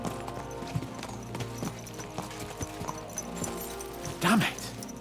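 Horse hooves clop rhythmically in the medieval video game Kingdom Come Deliverance II, steady galloping under a low music bed, ending with a louder horse whinny near the end.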